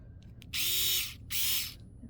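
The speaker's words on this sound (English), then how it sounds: "Here is a Vessel electric screwdriver." A Vessel electric screwdriver runs in two short bursts of high whirring motor noise, close and loud, separated by a brief pause, with faint clicks before the first burst.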